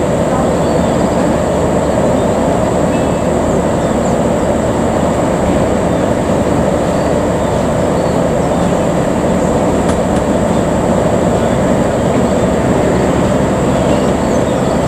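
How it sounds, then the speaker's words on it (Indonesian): Loud, steady rumble and roar of the Bandung Ekonomi train at Rancaekek station, a continuous broadband drone close by that holds for the full stretch. "kita tunggu keberangkatan kereta api Bandung Ekonomi"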